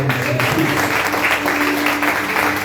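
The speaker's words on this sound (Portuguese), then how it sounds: "Dê um aplauso ao Senhor." A church congregation applauds continuously, a dense steady wash of clapping from many hands filling the room at close range.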